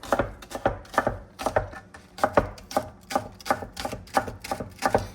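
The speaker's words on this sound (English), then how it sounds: "we're gonna get the green onions cut, and I use the whole onion, the whites and the green part" A knife chops whole green onions, both the white and green parts, on a board in a steady, fast run of crisp, close thuds that continues evenly throughout, with no talking.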